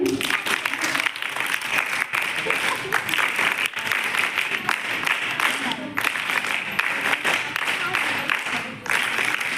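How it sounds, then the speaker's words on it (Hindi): Children clap together at a school NNS camp closing ceremony, sustained and fairly loud across the whole stretch with brief dips, while voices murmur underneath. "बच्चों तालियां बजती रहनी चाहिए"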